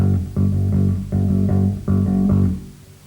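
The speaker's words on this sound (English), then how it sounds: "an 8th note and 2 16th notes." Heavy metal band plays a chugging rhythm of one 8th note and two 16th notes, repeated in loud, evenly spaced bursts with brief gaps, a thick distorted low-end riff and no voices.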